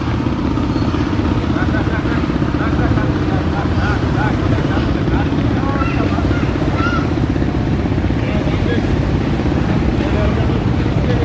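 Passenger launch MV Bogdadia 7 running at speed on a river, its engine a steady, loud broadband drone with continuous low rumble throughout, alongside water noise.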